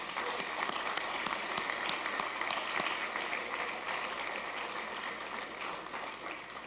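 Families at a police promotion ceremony give a sustained round of applause, a dense wash of many hands clapping steadily across the whole stretch, moderately distant and slowly tapering near the end.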